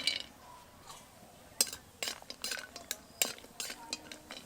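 Homemade lentil dumplings (kalai bori) are fried in a little oil in a pan, quiet sizzling broken by several sharp clinks and scrapes of a spatula against metal.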